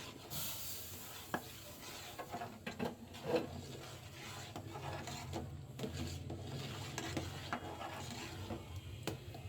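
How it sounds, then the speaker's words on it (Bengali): A spoon stirs ghee-fried semolina into boiled milk in a pot, giving soft scraping and rubbing strokes with faint sizzling, close and quiet, with no voices. "এখন অল্প অল্প করে দিয়ে দুধের সাথে মিক্সড করে নিব।"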